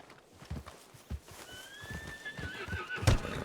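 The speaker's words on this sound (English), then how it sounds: "What's wrong with this horse?" A horse neighs in a western video game, a rising whinny near the end preceded by clip-clopping hoofbeats and faint background ambience, fairly quiet overall.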